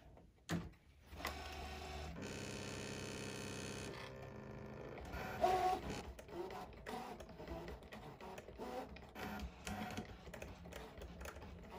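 A vinyl cutting machine half-cuts lettering through vinyl on a sticky mat, whirring motor runs mixed with rapid clicking and stepping bursts that start and stop irregularly, close and quiet.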